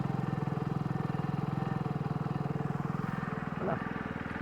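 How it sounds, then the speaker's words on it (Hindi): A 2026 Hero Splendor Plus motorcycle engine idles close by with a steady, even, fast thumping exhaust pulse and a brief faint squeak near the end. "आइडियल कंडीशन पर इंजन साउंड सुनो, एग्जॉस्ट नोट सुनो।"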